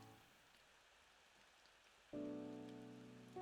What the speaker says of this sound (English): this is the perfect environment. There's rain